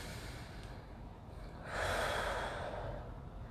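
One slow, deep breath during yoga practice in a lunge pose, a soft, drawn-out airy exhale rising in the middle and fading, close and intimate with no talk over it.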